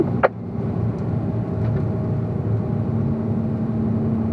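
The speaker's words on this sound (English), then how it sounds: "Open up that throttle, ease back to bring it in, and then open it up to fourth gear as we exit." A Corvette engine on the Spring Mountain race track holds a steady, loud drone from inside the car, opening with a brief sharp knock and then running smooth and even throughout.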